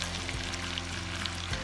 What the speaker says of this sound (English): put these taters over here in a corner. Let them start frying up.